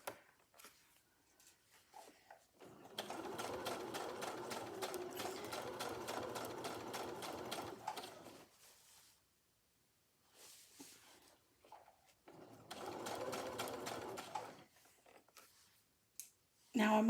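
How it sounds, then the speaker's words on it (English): A sewing machine stitches through a thick lump of fabric for a project bag, running in two sustained, close bursts of rapid rhythmic needle clatter separated by quiet pauses, with a few soft handling clicks between. "You're just sewing through the same amount that you did before."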